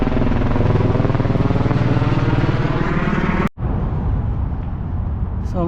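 A helicopter flying over Las Vegas gives a loud, steady rhythmic rotor chop close overhead, cut by a brief dropout, then a slightly thinner drone continues beneath street ambience.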